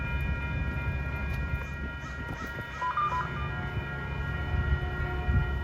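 Caltrain train 509 approaching trackside, a steady low rumble with faint tonal hum lines above it, moderately distant and continuous with no talk.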